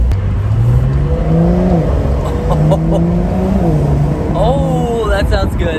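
A 2022 Porsche 911 GTS six-cylinder engine revs loudly and steadily from the cabin, its pitch climbing and dropping through several rises, with brief blips near the end.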